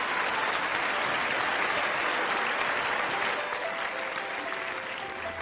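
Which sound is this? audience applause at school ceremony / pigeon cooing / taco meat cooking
audience applause at school ceremony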